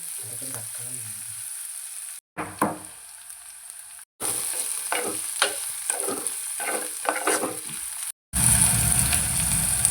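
Small onions sizzle and fry in a pan in a Kerala kitchen, with bursts of stirring scrapes and clinks; the sound drops out briefly between sections, then the sizzle returns louder.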